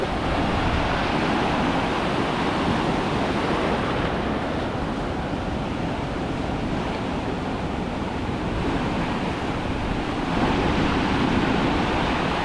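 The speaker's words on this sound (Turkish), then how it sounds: "Burada deniz de böyle aşırı dalgalı." Steady, loud rush of rough surf at a beach in El Nido, Philippines, with continuous broadband noise and wind buffeting, waves washing in without pause; no voices.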